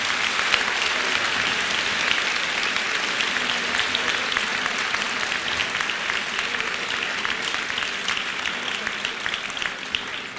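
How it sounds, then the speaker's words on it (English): An audience at a high school senior awards assembly applauds the graduating seniors, a sustained, even roar of many hands clapping that stays loud for around ten seconds. "Please give everyone a round of applause."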